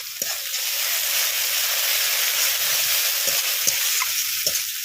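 Ginger-garlic paste, dried red chili, black pepper and cumin-chili paste frying in hot oil, a loud, dense sizzle held steady up close, punctuated by a few sharp spoon taps against the pan.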